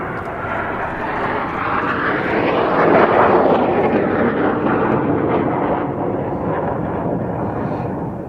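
A team of aerobatic display jets holds close formation while pulling around 4G, producing a loud, sustained roar that swells to a peak midway and then slowly fades, with no talk.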